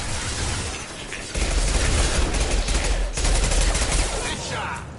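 Dense bursts of rapid automatic gunfire from a Mass Effect 2 firefight, loud and continuous with booming impacts, while voices call out over the shooting.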